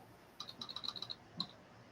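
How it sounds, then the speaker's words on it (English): Quick tapping on a phone screen or keys while a message is typed, a short burst of light close clicks followed by one more tap, quiet and alone. "you typing on over there, bro?"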